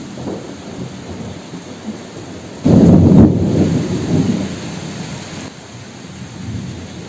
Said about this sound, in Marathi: किती गडगड गडगड आवाज येतोय, विजेचा आवाज येतोय आणि पाऊस पण पडायला लागलाय मस्त.